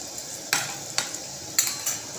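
Food frying in a pan with sugar just added is stirred, giving a faint steady sizzle broken by a few sharp scraping clatters of a spoon against the pan.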